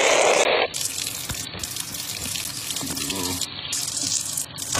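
Tap water gushes steadily from a faucet over an iPhone 8 Plus being rinsed in a sink, a continuous close splashing rush that stays loud for the whole stretch.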